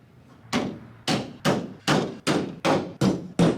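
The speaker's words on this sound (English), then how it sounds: "then mark the siding with a centering punch." Eight sharp metallic hammer strikes on a centering punch into metal siding, at a steady, even pace, each ringing briefly before the next blow, close and clear with no talking.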